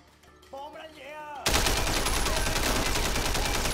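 Rapid loud gunfire hammers a locker in the Sleeping Dogs video game, a dense sustained burst of shots that follows a short stretch of someone talking.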